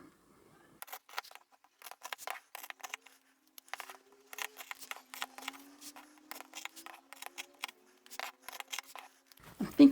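Scissors cutting through upholstery fabric for a boxed bag: a close series of crisp snips and slicing strokes in irregular bursts, with brief pauses between cuts.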